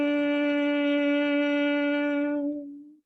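A voice produces Bhramari humming bee breath, a steady, resonant, nasal hum held on one pitch for nearly three seconds before fading out, close and alone with no words.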